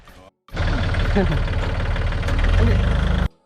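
Farm tractor engine running steadily while ploughing a field for sugarcane planting, a loud close diesel drone that starts abruptly after a brief pause and cuts off near the end, with faint talk at the start.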